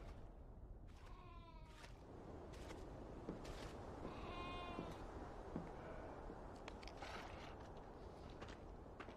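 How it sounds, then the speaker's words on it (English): Sheep bleating on a farm in the video game Beyond: Two Souls, two or three wavering bleats at moderate distance over a low ambient outdoor bed, with faint footsteps. "The sheep need water."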